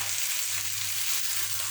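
Ackee and saltfish sizzle in a pan, a steady, bright frying hiss that stays even and close throughout, with no voices.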